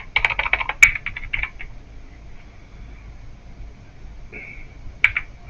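Quick bursts of typing on a computer keyboard, close and crisp clattering keystrokes in short runs separated by pauses, with a single sharper key tap near the end.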